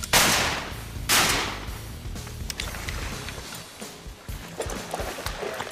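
Two loud shotgun blasts ring out about a second apart during a mallard duck hunt, followed by rustling, splashing and scattered movement at close range.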